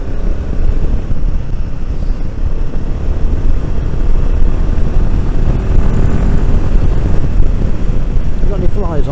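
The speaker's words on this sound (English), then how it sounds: "I honestly don't know if you can hear the combination of air intake and exhaust" Royal Enfield Himalayan 450 motorcycle riding at speed, its air intake and exhaust mixed into a steady, loud rumble with heavy wind noise throughout.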